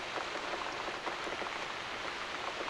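Steady rain falls in The Cat Lady video game, a dense, even hiss of drops spattering across a surface throughout, with no voices over it.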